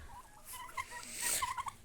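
A farmyard turkey gobbles faintly in the distance, a short burst of warbling calls with a few quick pulses, with no talking.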